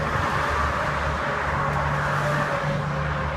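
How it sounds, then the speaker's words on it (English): Steady road noise from passing cars, a continuous rumbling hiss close by, with no voices. "you can't really hear me because of the numerous cars passing."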